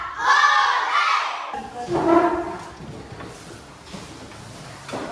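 A group of children in a classroom activity shouts together in a burst after squatting, followed by a second shorter shout, then fading chatter in a room.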